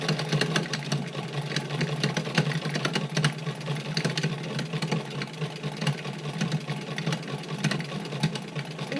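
A hand-crank sewing machine stitching fabric with a rapid, continuous mechanical clatter, steady and close for several seconds with no talking.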